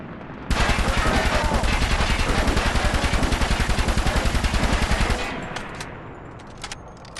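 Sustained automatic machine-gun fire in the SOCOM 4 multiplayer beta on PlayStation with Move controller, a loud rapid rattling burst of roughly four and a half seconds that stops abruptly, followed by a few scattered faint clicks and shots.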